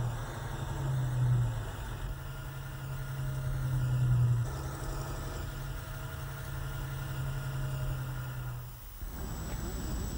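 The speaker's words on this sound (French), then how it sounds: "un autre véhicule Faune tracte le socle de lancement" A Faun heavy tractor tows a rocket launch pedestal across a launch site, its diesel engine idling and rumbling steadily with a low, continuous drone that dips briefly near the end.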